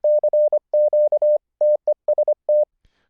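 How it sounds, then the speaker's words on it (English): Morse code audio tones, sent as CW through internet software: a clean, steady beeping pitch keyed in quick groups of short dits and longer dahs with brief gaps, loud and alone. "we're using it just to send audio tones from Morse code audio tones over to Mumble"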